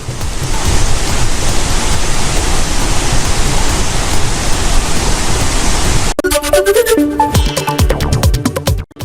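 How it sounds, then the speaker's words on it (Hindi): Water gushes from the opened gates of the Ukai dam on the Tapi River in Gujarat after heavy rain, a loud, steady roaring torrent that holds for several seconds before cutting to a different, choppier sound. "बांध के कुछ गेट खोलकर पानी निकाला गया"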